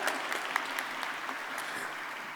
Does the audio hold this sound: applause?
yes